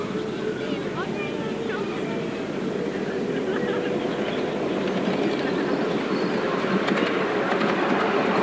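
Passenger-carrying 7¼-inch miniature railway train running on track, a continuous rumble with rhythmic wheel clatter and occasional squeals, close and steady, with voices talking over it.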